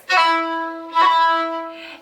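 Two thin fiddle notes are bowed too lightly, each starting with a scratchy attack and fading, with a breathy, airy tone.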